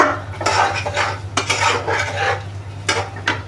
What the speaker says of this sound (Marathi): एक 2 मिनटं आता परतून घेऊ.